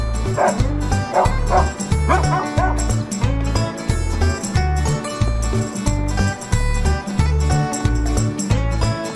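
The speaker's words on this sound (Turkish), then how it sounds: "sokak köpeğimiz eksikti anasını satayım" A street dog barks and yips repeatedly in quick bursts over a steady, rhythmic musical backing, fairly loud and close throughout.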